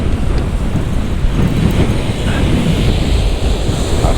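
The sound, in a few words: strong wind while fishing at sea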